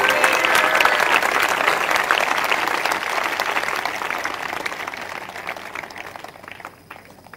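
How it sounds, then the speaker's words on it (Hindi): A church congregation at a morning service claps loudly and steadily, with dense applause filling the room, gradually fading toward the end. "एक जोरदार ताली प्रभु के वचन के लिए"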